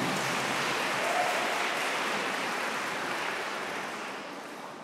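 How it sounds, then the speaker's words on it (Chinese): An audience at a school wind band concert applauds in a dense, even wash of clapping that fades slightly toward the end. "掌声鼓励一下好吗？"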